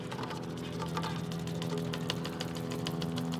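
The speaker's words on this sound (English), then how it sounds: "I'm whisking my eggs with the sour orange or lemon juice and the rice wine vinegar" Eggs being whisked by hand with sour orange or lemon juice and rice wine vinegar in a kitchen, a steady run of quick, light clicking strokes against a constant low hum.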